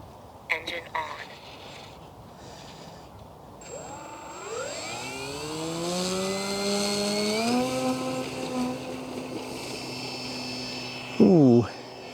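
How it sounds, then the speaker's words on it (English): Small model tow plane engine started up, rising in pitch to a steady buzzing whine that holds for several seconds, with a faint voice at the start and a brief louder burst near the end. "Engine on."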